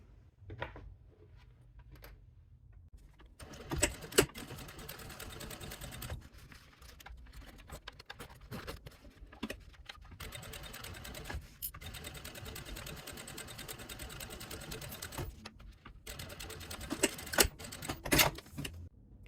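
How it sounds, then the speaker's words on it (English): A sewing machine runs in bursts of rapid mechanical stitching, stopping and starting several times, fairly quiet and close. "we will go back to the sewing machine"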